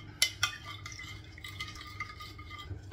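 A utensil stirs chicken barbecue marinade in a pan, giving two sharp clinks early on followed by soft, faint scraping and liquid swishing.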